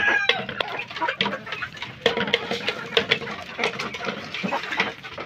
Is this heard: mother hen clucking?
yes